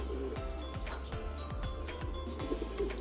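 A racing pigeon returns home, with soft low cooing calls repeating over steady background noise and a few faint chirps, all at fairly low level.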